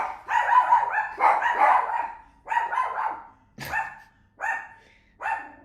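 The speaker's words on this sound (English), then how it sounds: "My bad, I got 2 dogs." Two dogs barking in a short run of loud, close barks, several in quick clusters followed by single sharp barks, with no one talking.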